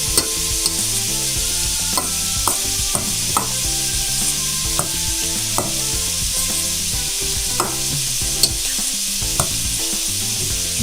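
Ricotta cheese being stirred into a pot of tortellini sausage soup, a continuous bright simmering hiss with repeated spoon clinks and scrapes against the pot at an irregular pace, close up with no speech.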